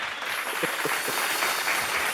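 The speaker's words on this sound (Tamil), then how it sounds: "அடுத்து நமக்கு ஒரு ஜெப ஆலயத்தையும் கட்டினான் என்று கையை தட்டுங்க, ஆமென்." A church congregation claps along during a Tamil sermon, a dense wash of hand claps with a few sharper individual claps standing out, steady and fairly close.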